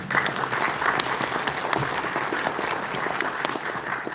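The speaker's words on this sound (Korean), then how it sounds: "박수 한 번만 이렇게 쳐주시죠." An audience at a Gyeonggi market-district support briefing gives a short burst of steady, fairly close applause, with no speech over it.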